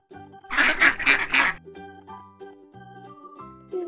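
A duck quacks in a quick burst of about four loud, raspy calls, followed by a softer tonal jingle in the background.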